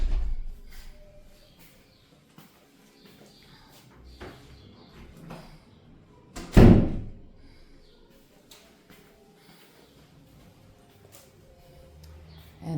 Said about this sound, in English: Let me close the door behind me and watch where my feet are going so I don't trip and fall.